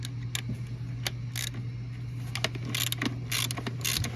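A ratchet wrench works loose the header bolts on a 5.4 engine, giving bursts of fast clicking pawl ratchets in short strokes against a low steady hum, close and distinct, with no talking.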